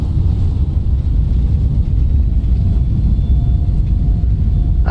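Thrust reversers on an Airbus A321neo landing in a flight simulator game, a loud, steady low roar and rumble that holds evenly throughout, with no talk.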